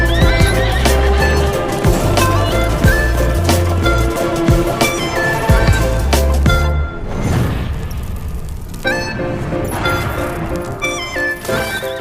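A horse neighs loudly and close while hooves clip-clop, set under a dramatic film score with clattering and a crashing impact midway.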